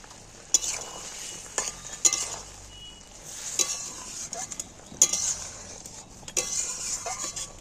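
Fried fish is stirred into chilli sauce in a pan for a homemade chilli fish, a soft sizzle under repeated metallic scrapes and clinks of a spatula against the pan, coming in uneven bursts.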